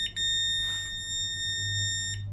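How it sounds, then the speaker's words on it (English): A Weiser smart lock sounds one long, steady electronic beep after its code is changed, loud and close, with a faint hum underneath and no voices. "Long beep means it's done."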